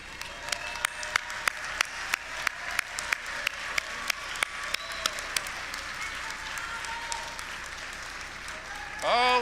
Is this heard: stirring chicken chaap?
no